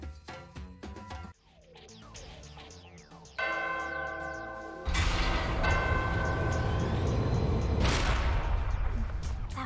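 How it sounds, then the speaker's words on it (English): Bell ringing in the video game Danganronpa Ultra Despair Girls, resonant chiming tones with ringing overtones and shifting layers of game sound, growing louder and denser toward a sustained noisy stretch. "ring the bell and go in"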